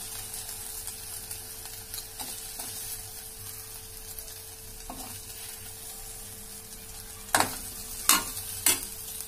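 Soft, steady sizzling of eggplant pepper roast frying in a pan, with a few sharp scraping and stirring clinks near the end.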